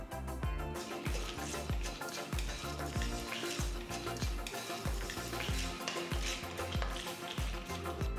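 Fresh curry leaves hitting hot oil in a kadai give a steady close sizzle and crackle, with rhythmic stirring scrapes repeating through it and no voices.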